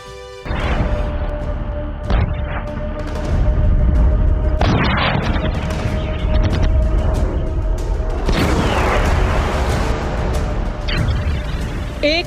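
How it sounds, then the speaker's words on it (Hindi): A loud, sustained series of heavy explosion blasts and booming rumbles, with repeated sharp impacts and roaring debris noise, filling the whole stretch without pause. "एक धमाका और पूरी कायनात धुआं धुआं।"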